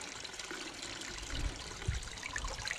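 Water flushing through a newly drilled well as it is rinsed clean, a steady broadband rushing trickle with a couple of low gurgling surges, close and continuous with no talking.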